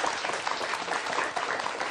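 Audience applause for a speaker at an investment talk, a continuous dense patter of many hands clapping at an even, moderate level.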